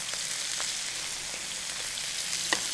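Beef strips searing in a hot pan, a steady loud sizzle with faint crackles throughout and a small pop near the end, heard alone with no talking.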